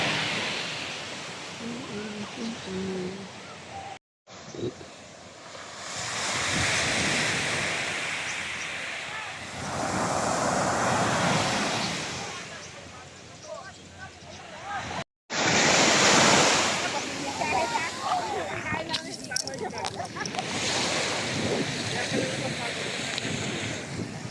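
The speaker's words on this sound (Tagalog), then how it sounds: "Uy, ang lakas ng alon." Strong ocean surf crashes and rolls in repeated surges at Canyon Cove beach, with gusty wind buffeting the microphone and a couple of abrupt cuts.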